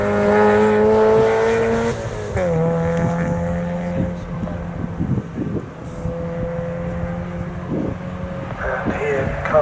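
Mazda MX-5 race cars roar past on a circuit in a club championship race, engines droning loudly with rising and falling pitch as they pass close by, followed by further cars sweeping through; a commentator talks over the engines.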